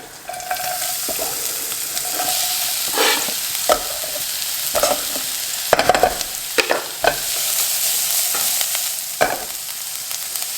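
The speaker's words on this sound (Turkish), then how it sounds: "Zeytinyağım ısındı. Şimdi soğanla sarımsağımı koyabilirim." Onion and garlic dropped into heated olive oil in a pan, giving a loud, continuous sizzle broken by repeated stirring clatters and utensil scrapes, with a brief watery sound near the start.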